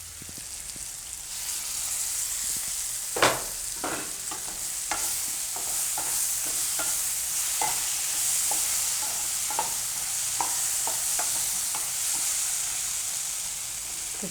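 Capsicum and onion shaak cooks in a pan with a constant sizzle while a spoon stirs it, giving irregular scraping clacks every second or so, close up.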